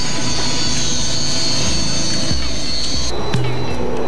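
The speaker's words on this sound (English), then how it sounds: "This is the Hawk, one of the most successful small aircraft in the world." A BAE Hawk jet trainer of the Royal Air Force, powered by a single Rolls-Royce engine, gives off a steady, loud roar with a bright high whine that shifts slightly near the end.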